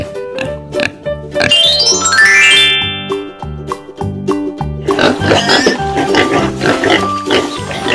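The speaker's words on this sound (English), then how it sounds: "Pig." A cartoon pig oinks in short repeated grunts over a cheerful animated jingle with bell tones, the snorts loud and close against the bouncy music.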